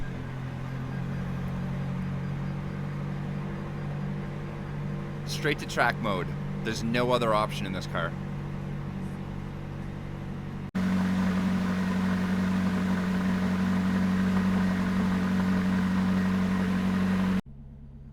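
A McLaren supercar idles after a cold start in minus 10 °C Toronto winter weather, a steady low engine drone. Someone talks over it midway, then the idle grows louder and more even toward the end.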